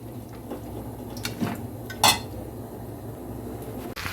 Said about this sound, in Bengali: মিনিটের মতো এই চিকেন আর সবজিগুলোকে ভালো করে একটুখানি আমি নেড়ে চেড়ে নিলাম